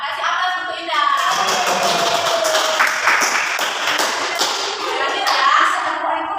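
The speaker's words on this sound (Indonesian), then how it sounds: "Kasih aplaus untuk Indah." A classroom of students claps for a classmate named Indah, a dense and steady round of applause that runs the whole time with a small swell near the end.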